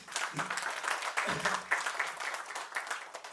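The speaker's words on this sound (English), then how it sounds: "So I want you to give a big round of applause for Caucus Films" Crowd applause for Caucus Films at the Marivillin Gopurangal audio launch, a soft wash of many hands clapping with voices talking over it in places.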